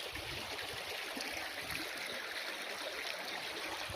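A river flows with a steady, even rush of water that holds at a constant level throughout, with no voices over it.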